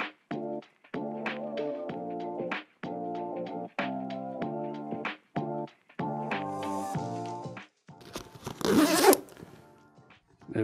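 Zippers on a Vanguard Alta Sky 68 camera bag being drawn open and shut, a series of close, rasping pulls with short pauses between strokes, ending in a louder rustle of fabric.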